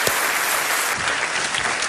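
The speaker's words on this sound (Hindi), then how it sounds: "एक बार फिर ताज मोहम्मद के लिए तालियां हो जाए।" A TV quiz-show studio audience applauds a contestant who won crores, loud and continuous clapping from many hands that runs without a break and has no speech over it.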